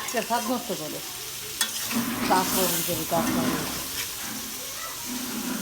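Chopped onions and chicken giblets sizzle and fry in a kadai while a utensil stirs and scrapes through them, close and continuous.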